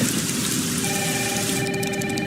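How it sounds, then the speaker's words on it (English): Heavy rain pours down steadily in a broad, constant hiss with no break, and faint tonal ringing rises in the last part of the clip. "It's really coming down hard."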